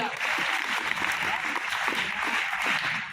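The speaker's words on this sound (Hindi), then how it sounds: "इनके लिए भी ताली बजाओ" Audience applause at a school ceremony in a government inter college, a dense, even burst of clapping from a crowd lasting a few seconds at close range.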